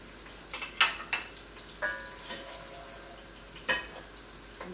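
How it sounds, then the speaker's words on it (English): Onions frying in oil in a pan with whole cumin being added while cooking chicken pilao, a steady soft sizzle broken by several sharp clinks and scrapes of a spoon stirring against the pot. "Once they're sizzling and brown, you add the whole cumin."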